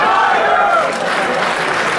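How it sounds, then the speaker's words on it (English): Wrestling arena crowd chanting Jushin Liger's name at an NWA junior heavyweight title match, a loud dense roar of many voices under a commentator's talk. "the crowd chanting Jushin Liger, as well they should"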